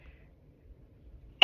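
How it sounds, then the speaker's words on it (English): One abrupt sneeze cuts through near silence at the very end, close and loud, during kitchen juice preparation. "Excuse me for sneezing."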